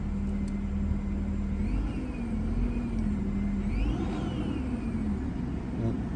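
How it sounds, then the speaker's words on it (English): The electric motor of an Opel Grandland hybrid revs, giving a steady whirring drone that rises and falls in pitch over a low, constant rumble, alone without talk. "We just revved up the electric motor."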